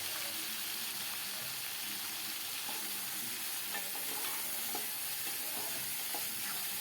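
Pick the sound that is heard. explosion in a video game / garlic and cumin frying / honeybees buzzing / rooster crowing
garlic and cumin frying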